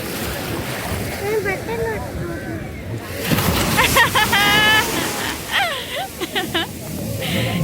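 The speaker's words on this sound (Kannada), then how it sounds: "ಎಷ್ಟು ದೊಡ್ಡ ದೊಡ್ಡ ಅಲೆ ಬರ್ತಿದೆ" Ocean waves surge and wash in with wind buffeting the microphone, while people talk and exclaim loudly over the surf.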